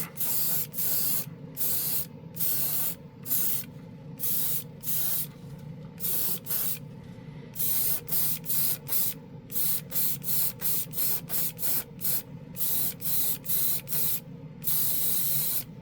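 A budget airbrush with a real wood handle sprays primer in steady hissing bursts, each lasting a second or so and separated by short pauses, close and fairly quiet with no talking.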